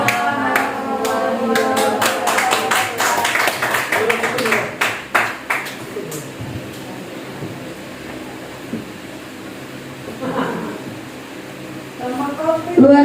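An audience at an Indonesian teachers' event applauds a guest speaker with a burst of dense clapping that thins out, while a voice talks over and after it.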